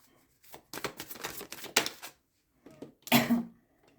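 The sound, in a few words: handling and gathering tarot cards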